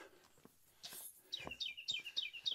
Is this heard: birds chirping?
yes